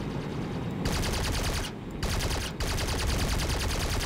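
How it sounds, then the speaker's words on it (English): Sustained heavy automatic gunfire in the Pony Thunder war video game, loud and dense bursts with brief gaps, heard alone without talk. "we're taking heavy fire, heavy rainbow fire from behind"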